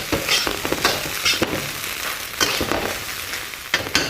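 Fujian fried rice with seafood frying in a hot wok, a steady loud sizzle broken by sharp bursts and scraping tosses every second or so, with no voices.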